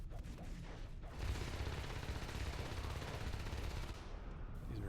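Shotgun fire from two Marines in the video game Natural Selection 2 during a fight with aliens, a dense, steady clatter of shots and combat noise running throughout, fairly faint overall.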